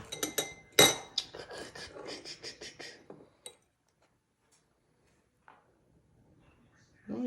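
A metal spoon clinks and scrapes against a dish while warm cream is stirred, a quick run of sharp rhythmic taps at first, then a few sparse clinks before falling nearly silent.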